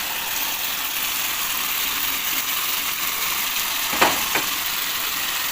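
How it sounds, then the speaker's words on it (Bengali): Deboned Bombay duck fish fries in a pan with a steady, close sizzle, broken near the end by a couple of sharp scraping knocks from stirring. "আবারও ভালো মতো কষিয়ে নিতে হবে।"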